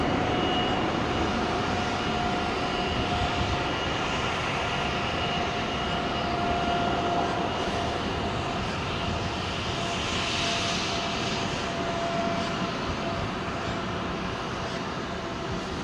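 A jet airliner departs runway 27L at London Heathrow, its engines a loud, continuous broadband roar held steady throughout, heard from nearby with no talking.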